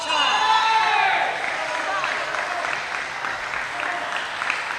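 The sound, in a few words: crowd applause after table tennis ace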